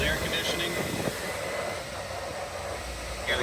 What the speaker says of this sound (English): You got the compressor kick on and it is blowing very cold.